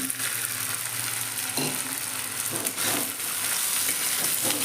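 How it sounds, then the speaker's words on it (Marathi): Sabudana tipped into a pan of fried potato and green chili, a loud continuous sizzle with scraping stirs and a soft shift as the pearls land. "आता बटाटा आणि मिरची चांगली फ्राय झालेली आहे आपण साबुदाणा घालून घेऊया"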